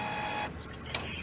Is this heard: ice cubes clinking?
no